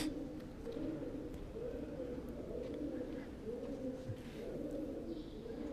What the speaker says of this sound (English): You can hear the pigeons.